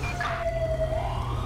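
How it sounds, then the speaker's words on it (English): Ambulance siren in GTA 5 arriving on scene, a steady wailing tone sliding through its pitch cycle, fairly loud over a constant low rumble of engine and street noise. "We got the ambulance pulling up on scene finally"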